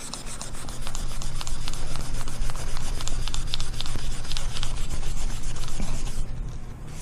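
Metal on a Flathead Ford project being sanded by hand with 1000 grit sandpaper, a loud close rhythmic rubbing of quick back-and-forth strokes that runs steadily for several seconds and stops near the end.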